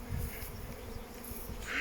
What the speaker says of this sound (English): Is he properly covered in bees?